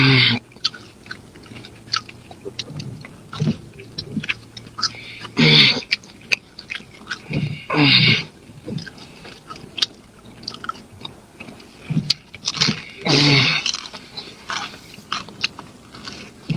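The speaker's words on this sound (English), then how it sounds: "he's barely even chewing that pizza" Someone chews pizza close to the microphone, with repeated moist bites and crunchy, squishy chewing in uneven bursts over a long stretch and occasional throat sounds between.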